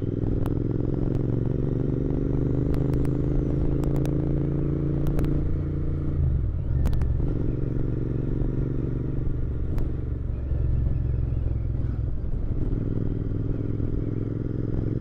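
Royal Enfield Interceptor motorcycle riding along a village road, its engine droning loudly and steadily close by, with rattles, scrapes and occasional thumps from the rough surface and gear shifts throughout.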